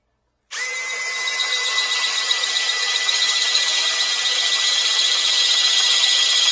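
A power drill bores into a steel propane tank with a 7/16 inch bit: after a short silence the motor starts and holds a loud, steady high whine for several seconds.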